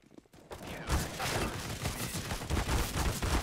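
Rapid bursts of automatic gunfire from a Counter-Strike: Global Offensive match rattle continuously and loudly after a brief quiet start, dense and close.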